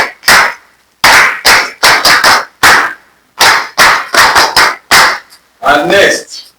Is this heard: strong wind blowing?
no